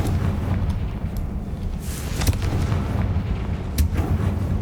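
Confringo fire spell blasts go off in Hogwarts Legacy, a dense barrage of booming, crackling impacts with sharp bursts cutting through a constant low rumble, loud and close.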